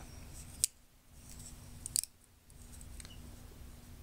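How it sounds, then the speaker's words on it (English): Scissors on a Gerber Dime multi-tool flipped open, giving two crisp metallic snaps about 1.4 seconds apart over a quiet steady hum, close up with no talking. "Comes with the scissors right here."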